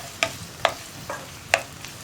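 Onions frying in a pan as a spoon stirs them, with four or five sharp scraping knocks over a steady soft sizzle.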